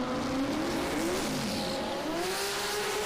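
At a drag radial race day in Australia, a drag racing car spins its tyres with a loud, sustained engine roar and rising revs, carrying straight through the few seconds with the harsh tone of the burnout.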